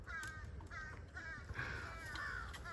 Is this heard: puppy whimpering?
no